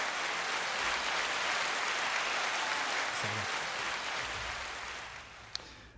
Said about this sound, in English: give a round of applause to Bert